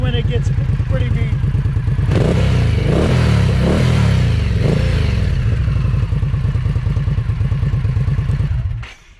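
An Indian Scout motorcycle engine runs close by and revs from idle up toward about 3000 RPM, its throbbing roar rising and falling over several seconds before cutting out abruptly at the end.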